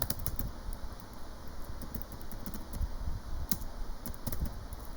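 Typing on a computer keyboard while entering data: quiet, irregular clicking keystrokes over a faint steady background hum, with no one speaking.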